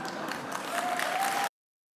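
Applause from a graduation ceremony audience, a dense, moderate wash of clapping from a large crowd at some distance, steady for about a second and a half before cutting off abruptly to silence.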